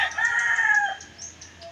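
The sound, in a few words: roosters crowing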